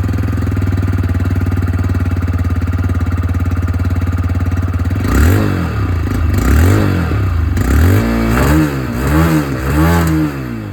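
A 2025 TVS Raider 125 iGO, a 125cc motorcycle, idles with a steady, close exhaust putter, then is blipped through several sharp revs that rise and fall in quick succession.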